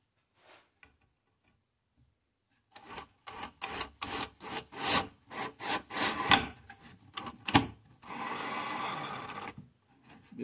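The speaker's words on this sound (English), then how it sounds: "I've got my Craig screws here, right here. I'm just going to run them in there." Screws being run into the wood of a cabinet with a power driver, giving a series of close, loud, short whirring bursts in an uneven rhythm, followed by a longer steady run at the end.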